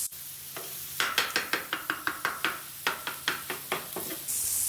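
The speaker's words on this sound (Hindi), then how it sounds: "ये हम तकरीबन 5 से 7 मिनट मजीद इसको फ्राई करेंगे।" Minced meat keema frying in a pan while being stirred, with a soft sizzle beneath a quick, regular run of about a dozen sharp scraping strokes, close and alone with no talk.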